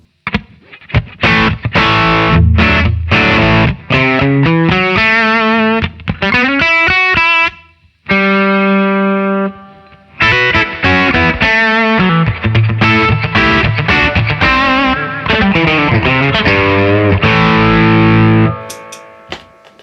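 Electric guitar through a Nobels ODR Mini 2 overdrive pedal plays chords and riffs with a crunchy, saturated tone, pausing briefly for a ringing held chord before resuming, loud and close.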